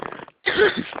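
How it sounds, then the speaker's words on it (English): A single harsh cough bursts out after a brief pause, close and fairly loud, preceded by a moment of muffled voice. "Excuse me, I have to cough."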